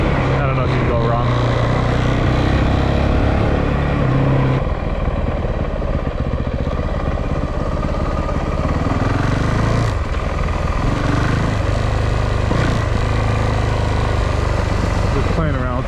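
A Honda CRF450RL dirt bike engine runs loud and close as the throttle is played with, revs rising and falling over a steady rumble, with a voice talking over it.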